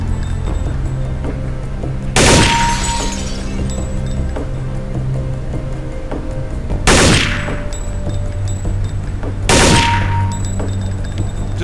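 Gunfire in Counter-Strike: Condition Zero during counter-terrorist training, three separate short loud bursts at targets spaced a few seconds apart, each with a sharp crack and brief ringing decay, over a quiet steady hum.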